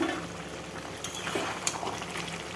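Goat meat stewing with tomato in its own released juices in a pot, giving a soft, steady bubbling hiss with a few faint pops, no voices.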